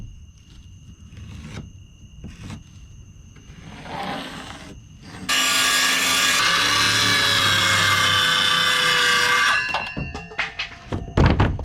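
A power saw cuts Akusa board, a fiberglass-laden panel, during a race boat restoration: a loud, steady, high buzzing cut of about four seconds, preceded and followed by handling knocks and thumps.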